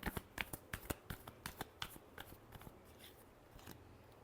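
Tarot cards are shuffled by hand in a quiet room, a run of crisp riffling snaps and flicks, sharp and rhythmic at first, then softening and thinning out toward the end.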